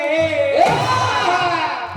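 A crowd cheers and whoops loudly with shouting voices over a short burst at a devotional kirtan performance, energetic and close, with clapping mixed in.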